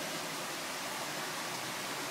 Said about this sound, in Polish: Proszę zobaczyć strumyk.